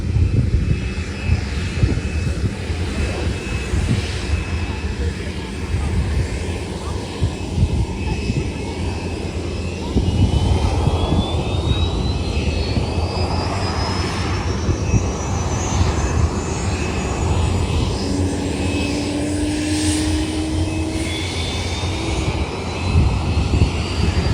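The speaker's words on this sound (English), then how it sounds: "I don't even know if that U2 is landing or not. It was landing back at base. Yeah, it's coming in." A Lockheed U-2 coming in to land at the RIAT airshow: a sustained loud jet engine roar with a slowly rising whine that swells and fades over about twenty seconds, under faint crowd noise.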